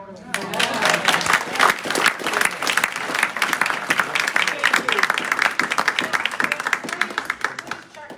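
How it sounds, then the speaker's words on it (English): Audience applause at a live birds of prey presentation by a wildlife recovery group, a sustained round of dense clapping that carries steadily for several seconds with some voices mixed in. "Let's give them a round of applause."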